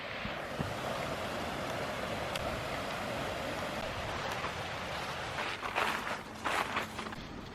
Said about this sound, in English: There's a little waterfall over here too.